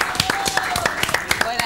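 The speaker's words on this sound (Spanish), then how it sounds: "Fuerte el aplauso." Audience applause at a televised golf croquet evening show, steady clapping from a crowd with distinct sharp claps scattered through, fairly loud, with a voice talking over it.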